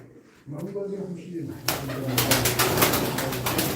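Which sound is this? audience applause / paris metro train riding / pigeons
pigeons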